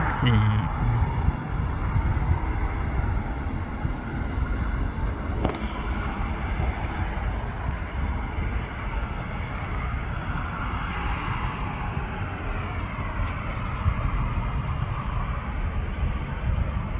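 A Singapore Airlines airliner approaches to land at Manchester, its engines a broad, steady roar heard from a distance throughout, with people talking over it.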